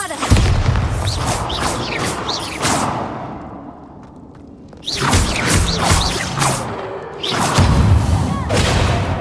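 Bombarda explosion spells in the Hogwarts Legacy video game, with heavy booming blasts and whooshing bursts in two loud waves separated by a brief lull, the impacts crackling with debris.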